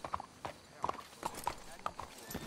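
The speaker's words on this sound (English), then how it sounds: "Let's hitch your horses up ahead." Horses' hooves clip-clop in Red Dead Redemption 2, a quiet, uneven run of hoofbeats with a voice talking over them.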